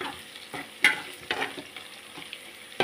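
Spice paste for Madurese gulai fries in a pan and is stirred, with irregular scraping strokes over a gentle crackling sizzle, close up and alone, with no talking.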